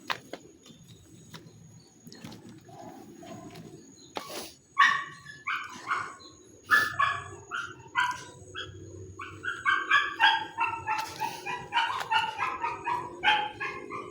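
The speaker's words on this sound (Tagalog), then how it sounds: "Gay, mga aso." Several dogs barking nearby, a few sharp isolated barks at first, then a rapid run of overlapping barks and yips toward the end, loud against a quiet background.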